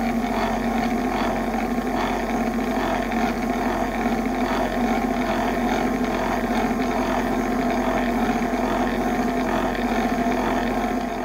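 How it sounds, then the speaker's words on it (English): A 600 grit diamond polishing wheel running on a Buchanan thunderegg, a steady, even motor hum with a faint rhythmic whir, continuous and unchanging throughout with no talking. "And we are off to the 600 grit polishing wheel."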